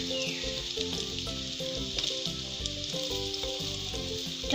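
Onion fries in hot oil in a pan for spicy cutlets, a continuous close sizzle with small crackles and an occasional light stir, and no talking.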